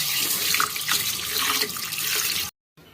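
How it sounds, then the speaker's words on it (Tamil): Steady running water from a tap splashes into a sink, broad and close, with faint stirring of mung beans being washed under the stream before it cuts off abruptly. "ஒரு அரை கிண்ணம் பயிர் நல்லா கழுவி எடுத்துக்கிறேன்"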